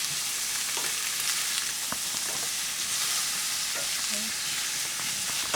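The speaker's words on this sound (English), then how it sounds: "I let the onions cook down a little bit." Onions and vegetables sizzle and fry in a pan on lowered heat, a steady close crackle with occasional stirring scrapes.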